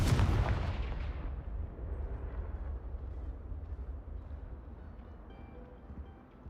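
Confringo fire spell from Hogwarts Legacy detonating in one loud, deep blast at the start, then a long rumbling decay that fades out over several seconds with nothing else heard.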